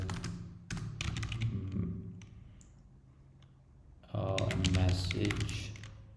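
Computer keyboard typing in bursts of quick clicks, with a pause in the middle and a denser flurry near the end, close and moderately loud, with a voice talking alongside.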